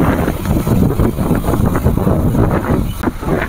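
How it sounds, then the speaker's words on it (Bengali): Stormy wind and heavy rain from Cyclone Remal lash a Kolkata street, a loud continuous roar of buffeting gusts and rushing water close to the microphone. "যেমন বৃষ্টি তেমন হাওয়া, কম্বিনেশন করে পুরো ঝোড়ো বৃষ্টি"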